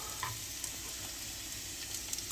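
Garlic fries in a grill pan alongside sautéed potatoes, giving a soft, steady sizzle with faint crackles and pops, quiet and close, with no voices.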